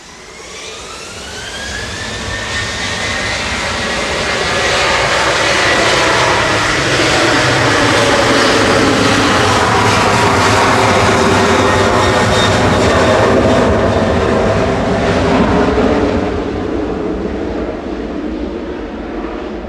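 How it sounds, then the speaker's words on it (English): A Ryanair jet passes close by at Manchester Airport, its engine whine and roar swelling to a loud peak with sliding pitch before slowly fading away, with no talk. "There goes Ryanair."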